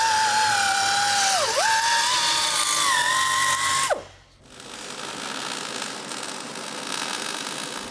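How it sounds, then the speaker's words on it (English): A high-pitched power tool whines loudly while cleaning classic Camaro metal before welding, its pitch dipping briefly under load, then cuts out abruptly, leaving a lower steady grinding hiss. "Using multiple tools, we're going to clean up the areas we need to weld to make sure they are as clean as possible."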